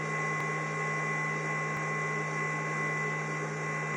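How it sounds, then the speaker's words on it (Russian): A Swipower inverter's faulty cooling fan gives off a steady, loud whirring hum with a constant pitched whine, running unchanged with a couple of faint clicks. "вентилятор начал издавать страшные звуки"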